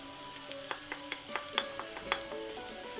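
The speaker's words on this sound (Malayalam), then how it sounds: "എന്നിട്ട് ഇത് കുറച്ച് നേരം കൂടെ ഇങ്ങനെ ഇളക്കണം" Spice powder being stirred in a pan for vegetable cutlets, with a spoon scraping and tapping the pan in a run of short, sharp clinks over a faint sizzle.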